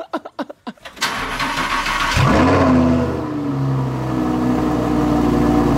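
A Lamborghini engine fires up after a few faint starter clicks, then revs loudly with a rising roar that settles into a deep, close idle burble.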